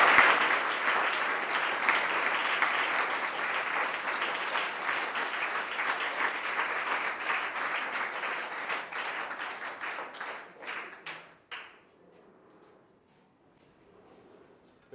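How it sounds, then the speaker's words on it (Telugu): Audience applause for a speaker at a law lecture, loud and steady sustained clapping for about eleven seconds that thins out into scattered claps and fades to near silence. "సార్కి ఒకసారి మీ అందరు గట్టిగా చప్పట్లు కొట్టండి."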